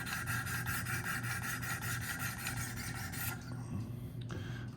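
Sharpening stones stroking along the blade of a Spyderco Shaman knife with S90V steel, clamped in a Wicked Edge sharpener, make a steady, close, repetitive raspy rubbing that runs continuously and then quietens near the end.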